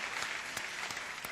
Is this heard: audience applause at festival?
yes